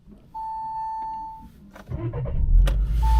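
A car is started with a key: a steady electronic warning beep sounds first, then the engine cranks and catches into a low, rising rumble, with another short beep near the end.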